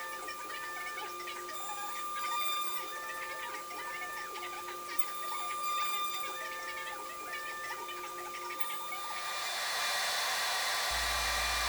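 CNC router cutting a pocket with a shop vac running: a steady whine with a high tone, stepping and changing pitch as the bit moves, then a louder hiss rising near the end.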